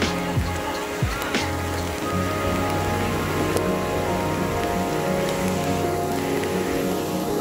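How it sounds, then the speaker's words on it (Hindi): Heavy rain pours steadily and densely on surfaces, a constant close hiss with occasional louder drops and knocks, no talking. "बारिश बहुत तेज हो गया"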